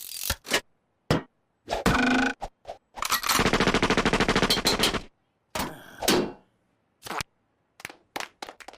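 Gunfire rings out in a Futurama cartoon scene as someone shoots at a target in midair: sharp separate shots, then a long rapid burst of automatic fire, followed by a few more scattered cracks with gaps of silence.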